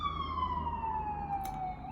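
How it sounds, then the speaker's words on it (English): An emergency vehicle siren passes along a major road near a home, a steady wailing tone that slowly falls in pitch as it goes by, loud and continuous with traffic rumble underneath. "And there is a siren."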